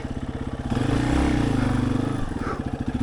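A Yamaha XT250 enduro motorcycle works along gnarly single track in British Columbia, its engine close by with a throbbing, pulsing idle at the start and end and a steadier, heavier rev in between, with no voices over it.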